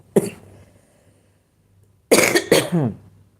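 A single cough, a pause, then two more sharp coughs in quick succession, close and clear against a quiet room.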